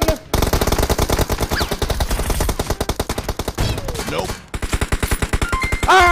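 Rapid automatic gunfire from a mobile shooter game with AWM and shotgun, in dense sustained bursts with a brief pause, loud and close while players talk over it.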